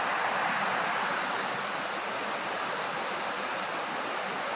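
A waterfall near a lake gives a steady, dense rush of falling water, broad and even throughout with no other sounds standing out.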